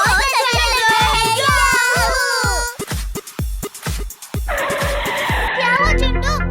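A cartoon car skids to a stop with a loud tire screech, a busy animated scene with voices and music around it, followed by a short burst of effects.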